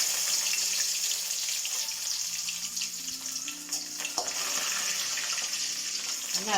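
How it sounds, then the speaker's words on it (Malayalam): Curry leaves, urad dal, sambar dal and dried chillies sizzle steadily in hot oil, a continuous close frying hiss with faint crackles and a few small clinks, no voices. "കറിവേപ്പില, ഉഴുന്ന് പരിപ്പ്, ഉണക്കമുളക്, കുറച്ച് സാമ്പാർ പരിപ്പ് ഒക്കെ ഇട്ട് കൊടുക്കാം."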